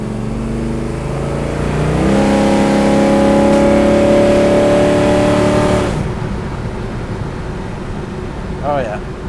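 A 427 big-block V8 in a 1968 Chevrolet Chevelle SS revs hard and climbs in pitch, roaring loudly up close, then cuts off and drops back to a low idle rumble.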